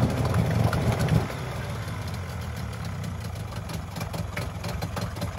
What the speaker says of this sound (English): Oh, she's idling.